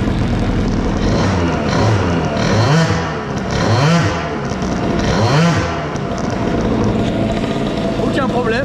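A CPI scooter fitted with an Airsal 70 kit runs loud and close during a clutch test. The two-stroke engine revs rise and fall in rough waves, and a voice speaks over it.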